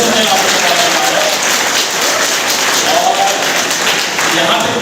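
Audience at a road safety event at a college applauding themselves, a dense, continuous burst of clapping from a large crowd that stays loud and steady from start to finish.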